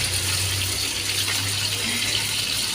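First-extract coconut milk is poured into a simmering chicken curry, a steady liquid pour and gush that runs continuously for a few seconds, close by and without talk.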